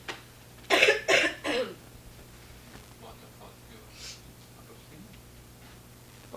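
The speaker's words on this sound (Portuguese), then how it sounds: "Eu provavelmente vou dar umas tossidas aqui." Three loud, close coughs come in quick succession, followed by quieter throat sounds and soft ticking over a steady low hum.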